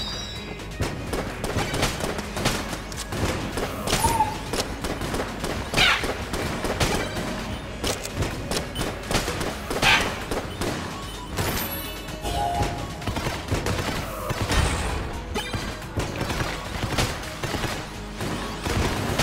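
Rapid in-game gunfire from the bullet gun in the Enter the Gungeon sequel, a dense run of repeated shots and impacts that continues steadily over a busy layer of game sounds.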